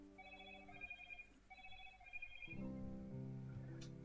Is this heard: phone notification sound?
yes